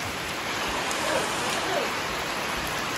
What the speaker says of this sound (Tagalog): Ulan.